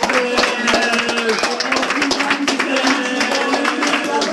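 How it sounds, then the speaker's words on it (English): Audience applause fills the room at a comedy show, a dense steady patter of many hands clapping close and loud, with voices talking over it. "Can you start the applause again?"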